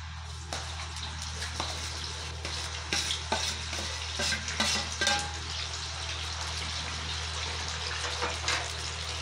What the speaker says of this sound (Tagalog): Habang sa kabila ay ating piniprito ang ating patata, dito is ginigisa ko naman ang ating para sa corned beef.